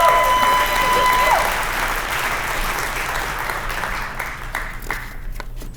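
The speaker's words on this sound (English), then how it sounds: "let's give them another round of applause." A large crowd at an awards banquet claps steadily and loudly, the applause holding for several seconds before gradually thinning, with a faint tone in the room at the start.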